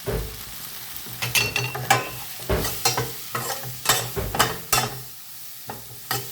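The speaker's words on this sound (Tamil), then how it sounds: "இப்போ கொஞ்சம் வதங்க விடுவோம் லைட்டாக" Onions with a packet spice mix sauté in a pan, with a steady sizzle under a dozen or so sharp, rhythmic scrapes and clacks of a spoon stirring.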